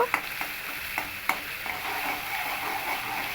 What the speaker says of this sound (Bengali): লঙ্কাটা দিয়ে আমি আবারও একটু খুব ভালো করে মিশিয়ে নিয়েছি